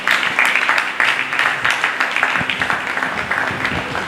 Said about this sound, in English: I would like, the audience to just give our sponsors a round of applause